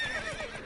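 In The Witcher 3, a game horse lets out a short whinny, a quick bright neigh over faint hoof clip-clop, lasting under a second.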